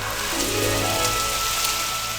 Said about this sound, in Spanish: Y la lluvia caía del cielo con fuerza.